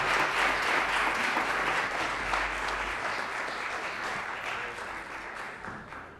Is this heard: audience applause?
yes